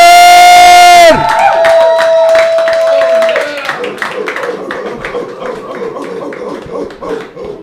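Open mic comedy crowd cheering and clapping as a comedian comes on, loud whoops and applause following a sharp burst of amplified sound, then tapering into scattered claps and shouts.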